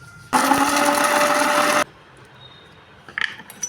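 A mixer grinder whirs loudly for about a second and a half grinding roasted chutney ingredients and garlic, then cuts off abruptly, followed by quiet room noise and a few small clatters.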